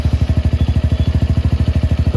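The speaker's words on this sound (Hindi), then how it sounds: "इंजन के साउंड भी बहुत ही बेहतरीन है" A TVS Radeon BS6 motorcycle engine, just repaired for a misfiring problem, runs alone in a workshop with a loud, steady, rapid thump of firing pulses, close and even throughout.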